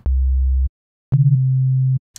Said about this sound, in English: So we're starting with a simple sine wave.